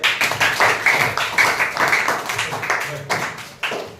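Rhythmic group clapping in a maths classroom lesson, quick bursts repeating about every quarter second, close and moderately loud, with voices faintly mixed in.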